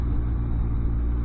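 A Can-Am Ryker 900 three-wheeler riding along the coastline in the south of Gran Canaria, its engine a loud, steady low rumble under continuous road and wind noise, with no talking.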